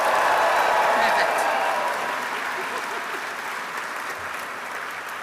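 A ceremony audience breaks into loud, dense applause and cheering together, strongest at the start and gradually easing off over several seconds.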